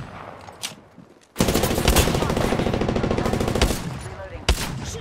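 Sustained automatic gunfire rattles loudly in the video game Apex Legends, a dense rapid burst lasting several seconds after a brief quiet start, with a few isolated shots around it and faint talk underneath.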